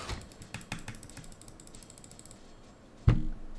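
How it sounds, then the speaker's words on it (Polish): Money-earning sound effect from the Roblox game Coder Simulator: a quick run of dry, ratchet-like clicks in the first couple of seconds that thins out, then a sudden louder low thump near the end, with no talking. "Co chwilę mam ten dźwięk zarabiania"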